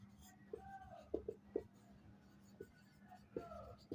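A pen scratches across paper while a math problem is worked out, faint close strokes in short irregular bursts with tapping pauses over a quiet room.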